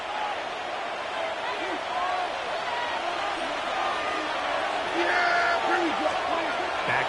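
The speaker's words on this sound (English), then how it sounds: "And they're going to hear it from this crowd." Steady stadium crowd roar during a 49ers vs Cowboys NFL football game, a broad continuous wash of noise that swells slightly near the end, with an announcer talking over it.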